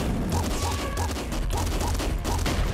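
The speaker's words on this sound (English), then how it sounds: "this with the super plasma cannon, you have like so much fun with it" A super plasma cannon firing in Nuclear Throne, a dense, continuous barrage of loud crackling blasts and rolling explosions with a faint pulsing electronic tone underneath.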